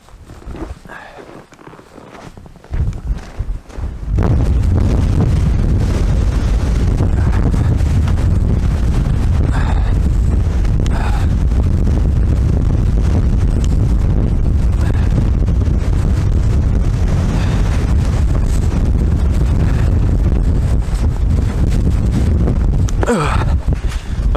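Strong wind in the Lapland wilderness buffets the microphone in loud, sustained roaring gusts while someone walks, with faint rustling and footsteps beneath; the first few seconds are quieter before the wind takes over.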